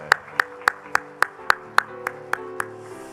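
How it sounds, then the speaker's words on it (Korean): A church congregation claps together in a steady unison rhythm, about ten crisp claps evenly spaced and fading slightly toward the end, over a faint tonal background. "우리 박수로 화답하겠습니다."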